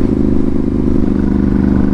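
A Ducati 796 motorcycle with a titanium exhaust drones loudly and steadily, a dense close engine roar with a low rumbling pulse held for a couple of seconds, no talk.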